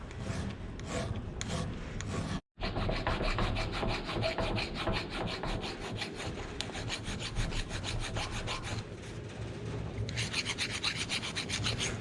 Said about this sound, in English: small files here, just kind of touch it up